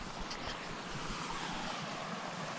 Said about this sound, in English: I absolutely love the sound of water while sleeping, running water.